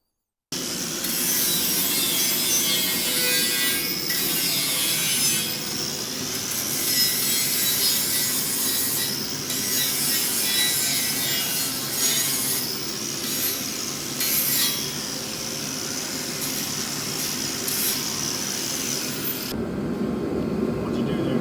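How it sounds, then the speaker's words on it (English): Beveling steel frame edges for a welding jig on a 1969 Dodge Charger, a steady loud rasping grind that runs nearly unbroken for about twenty seconds, then cuts off abruptly. "I'll bevel that, and then I'll bevel this from the bottom."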